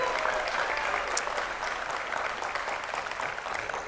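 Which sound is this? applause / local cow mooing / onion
applause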